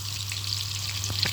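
Cheese sizzling and crackling in a pan while being cooked into a crispy snack, a soft continuous fry with a steady low hum beneath and a couple of small pops near the end.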